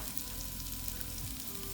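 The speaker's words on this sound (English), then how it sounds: "just heat the oil up. And in goes our ingredients" Ingredients seasoned with salt and pepper fry in hot oil, giving a steady, quiet crackling sizzle throughout the short stretch with no speech.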